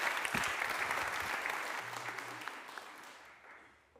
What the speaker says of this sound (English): Please give Jens a warm round of applause.